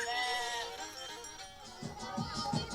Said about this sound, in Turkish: Kuzuların yorgun sesleri duyulur.